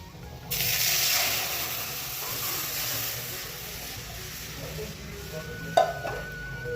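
Dal tempering sizzles in a pan, a steady close hiss that swells in over the first half second and carries on evenly, with a sharp clink of a utensil near the end.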